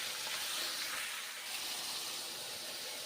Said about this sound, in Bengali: বেশ ভালো করে নেড়ে চেড়ে ঝিঙেগুলোকে ভেজে নেবো এখন, তাই এইভাবে ঝিঙেগুলোকে আমি ভেজে নিচ্ছি।